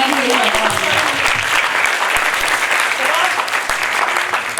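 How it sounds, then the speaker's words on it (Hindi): Loud, dense applause from a school audience at a general-knowledge quiz competition, sustained clapping from many hands close by with a rumbling crowd undertone throughout. "इन सब के लिए भरपूर तारीफ। भरपूर तालियां।"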